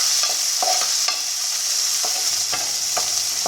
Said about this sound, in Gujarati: ટામેટાને એડ કરી અને બરાબર મિક્સ કરી દઈશું।